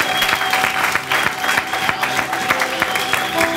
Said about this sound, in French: Quelqu'un va acclamer.